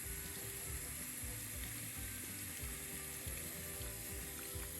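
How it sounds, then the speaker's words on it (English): Lukewarm tap water runs steadily into a sink while a human hair wig is washed, a faint, constant hiss and splash with no talking. "I'm going to start the water. I'm going to do cool, lukewarm water running throughout."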